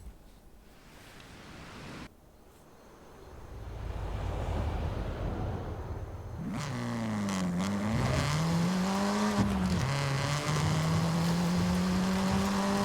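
A car in Forza Horizon 5 roars up to high speed as the engine climbs through the revs, a steady loud drone over wind and road rush that builds after a quieter start.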